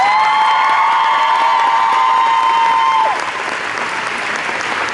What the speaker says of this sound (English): So applause for this guy.